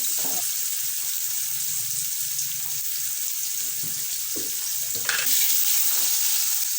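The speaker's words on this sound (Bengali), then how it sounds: "আলুটা একটু ভাজা হোক" Potatoes frying in a pan for a ridge gourd and poppy seed dish: a constant bright sizzling hiss, close and even, with a few soft scrapes and one louder burst near the end.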